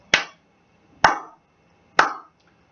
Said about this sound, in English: 3 slow claps.